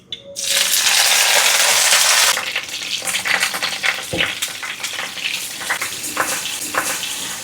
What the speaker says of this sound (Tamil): தாளிக்கிறேன்